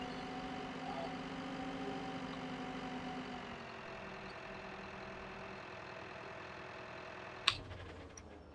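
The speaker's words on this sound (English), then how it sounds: "Over here now the engine's running." Vehicle engine running in Farming Simulator 2015 while logging in the Alps, a low steady idle hum that eases slightly, fairly quiet and alone, with one brief sharp click near the end.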